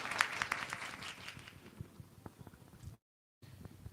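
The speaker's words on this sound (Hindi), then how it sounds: "एक बार खुदा के खादिम के लिए जोरदार ताली बजाएं।" A church congregation at a Sunday service applauding, a moderately loud burst of clapping that fades into scattered claps and a brief break in the sound.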